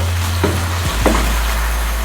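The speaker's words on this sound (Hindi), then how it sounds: "इसे 2 मिनट तक मज़ीद हम भून लेते हैं मीडियम आंच पे" Spices, turmeric, cardamom, tamarind and dried plums frying on medium heat in a pot for chicken biryani, a steady close sizzle with a couple of brief stirring scrapes.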